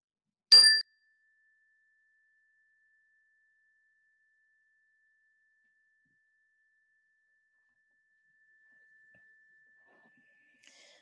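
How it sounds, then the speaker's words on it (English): A single meditation chime is struck once, a bright ring that sustains as a long, pure fading tone through near silence. "we'll begin with the ring of the chime"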